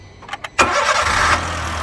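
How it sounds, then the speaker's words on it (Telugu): A 2016 Honda Brio S manual petrol hatchback starts on a very short crank, two brief starter bursts followed by the engine catching loud and close and settling into a steady idle. "హాఫ్ సెల్ఫ్లో అయితే వెహికల్ స్టార్ట్ అవుతుంది"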